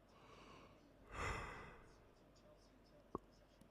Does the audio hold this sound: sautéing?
no